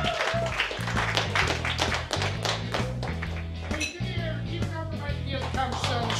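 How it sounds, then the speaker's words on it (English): Applause from a comedy club audience at Gotham Comedy Club: scattered, steady clapping that carries on for several seconds, with a low thumping beat of music playing underneath. "Give them all a round of applause."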